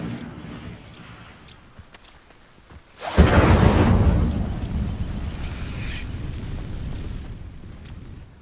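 An Incendio fire spell bursts against dry vines in the Hogwarts game, a sudden loud whoosh of flame followed by a sustained crackling roar that slowly fades.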